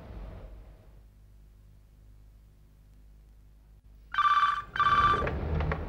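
A household telephone bell rings twice in quick succession after a hush, the bright, close rings cutting in loudly before a low background rumble returns.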